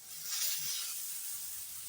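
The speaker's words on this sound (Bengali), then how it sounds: "এখন আলুও সেদ্ধ হবে, মশলাটাও ভাজা হবে।" Potatoes and spice paste fry in a pan, producing a steady, quiet sizzle and hiss that continues evenly without pauses and with no voices over it.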